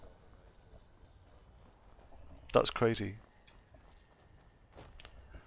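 Horse hooves clop in the Skyrim video game, a brief cluster of steps mid-way over a quiet background, with a voice speaking briefly.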